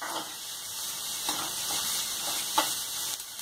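Vegetables and leftover chapati noodles frying in a pan, a soft steady sizzle with a few faint stirring clicks and scrapes, fairly quiet with no talking.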